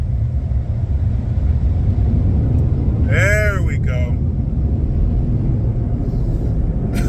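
A dryer runs loudly, a steady, jet-like roar that fills the whole stretch without pause. A voice speaks briefly in the middle over the noise.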